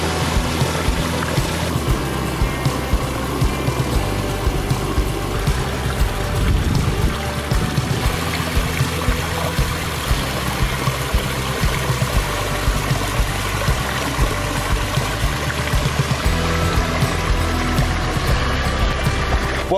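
Water pours and splashes steadily over a newly built stone Aquascape waterfall in an outdoor living space, a continuous rushing flow close by with no voices.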